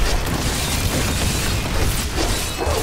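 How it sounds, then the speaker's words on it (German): An explosion skill goes off in the Diablo 3 video game with a dense, continuous wash of crashing, shattering blast noise that stays loud throughout. "Meine Explosion."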